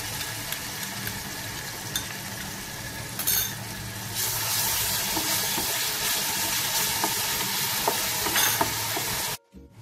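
Ginger garlic paste frying with onions in a pan for Lahori murgh chanay gives a steady close sizzle with stirring scrapes, growing louder and brighter midway before cutting off abruptly at the end.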